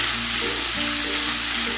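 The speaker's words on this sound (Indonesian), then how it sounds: "Tumis bumbu dan aduk rata." Ground spice paste for balado salted fish sizzles loudly in hot oil as it is sautéed and stirred, a dense, close, continuous frying hiss over a brief moment.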